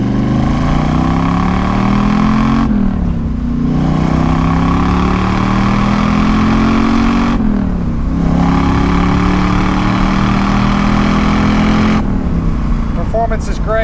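A 1996 Pontiac WS6 with a 5.7 V8 and six-speed manual pulls out and drives, its loud engine climbing through each gear with clear drops between shifts, heard from inside the car.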